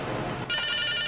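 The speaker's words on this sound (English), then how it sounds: "to see if anyone would answer this ringing payphone" Payphone at a bus station ringing, a bright electronic trill that starts partway through after a brief low murmur and continues steadily to the end.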